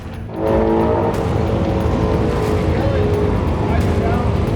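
A turbocharged LS-powered Foxbody drag car launches on its pass at a drag-and-drive event, its engine roaring up loud and close after a quiet start and holding a dense, strained howl, with voices talking over it.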